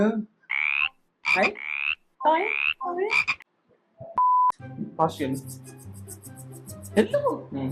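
Cartoonish, electronic frog croaks from the video game Level Devil repeat in short bursts with a sharp beep midway, followed by busier game-style music and effects.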